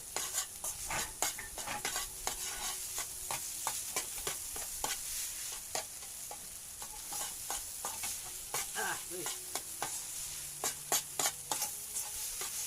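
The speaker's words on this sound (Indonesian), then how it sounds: "Goreng sampai ke kuningan, jauh." Noodles being stirred and fried in a pan, with a steady sizzle under rapid, irregular scraping and clinking of a utensil against the metal, close and clear.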